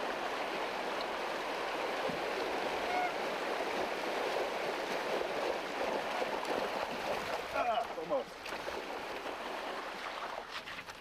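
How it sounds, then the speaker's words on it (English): Several race riders splashing through the water of Peru Creek during the Montezuma's Revenge race, a steady rushing wash of water running throughout with some brief splashy bursts near the end. "Here the riders fan out, crossing Peru Creek"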